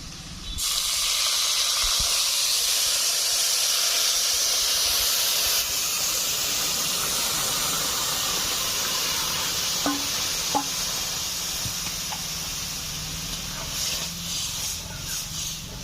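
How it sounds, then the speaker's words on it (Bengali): Lentils tipped into lightly browned onions in a hot pan, a steady loud sizzle and hiss holding throughout, with a few faint scrapes and clicks near the end. "পেঁয়াজগুলো হালকা লালচে হয়ে এসছে। এখন ডাল দিয়ে দিচ্ছি।"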